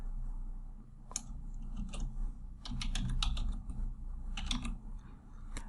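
Keystrokes on a computer keyboard while text is entered into a bathroom technical drawing, coming in irregular bursts of close, crisp clicks over a low steady background hum.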